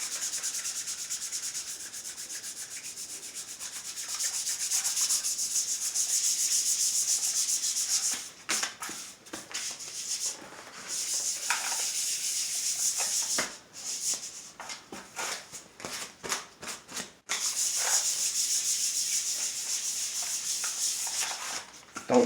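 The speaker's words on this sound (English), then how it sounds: "Don't stay in one spot sanding." Sanding on a vintage Gibson Les Paul Custom guitar body during restoration: a steady, close rasping rub that runs continuously, broken by short pauses and lighter choppy strokes midway before settling back into an even hiss.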